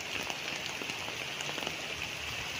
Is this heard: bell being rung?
no